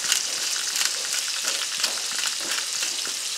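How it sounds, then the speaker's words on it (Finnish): Elk steak sears in a hot pan, a loud, dense, continuous sizzle and crackle of frying with no talking. "ideahan ei ole nyt paistaa tätä lihaa kypsäksi, vaan sen verran, että paistetaan vaan tälleen pinta kiinni."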